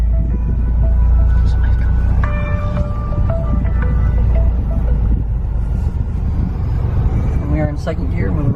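A 2024 Toyota GR Corolla with a manual gearbox rolling through a parking lot in second gear, its engine a steady low drone with faint whining tones heard from inside the cabin.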